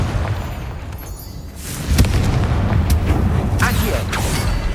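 A Confringo blasting spell in Hogwarts Legacy, a booming burst that rumbles on with crackling debris and mechanical clatter, loud and close.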